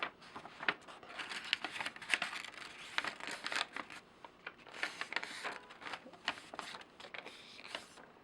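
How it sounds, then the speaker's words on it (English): Paper requisition form being folded by hand, a run of close crinkling and creasing rustles with irregular sharp crackles, fairly quiet and with no talking. "And then you fold the requisition form"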